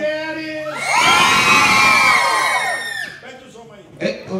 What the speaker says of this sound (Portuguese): As mulheres desse lado vão gritar pensando que é só desse lado.